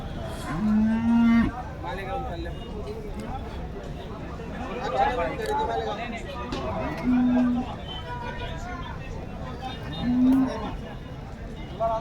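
HF cows at the Loni cattle market give three deep, drawn-out moos spaced several seconds apart over a steady crowd hubbub, with someone talking throughout.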